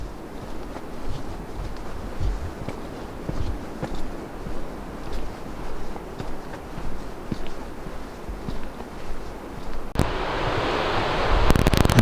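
Waves wash onto a beach on the Central Oregon Coast at Newport in slow, rhythmic surges under steady wind noise, with a louder gust of wind rushing across the microphone near the end.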